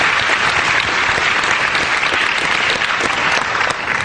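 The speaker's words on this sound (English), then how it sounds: "ask you to hold your applause till the end" Sustained audience applause fills a hall during a debate on whether the Christian god exists, dense and steady from start to finish with no voices over it.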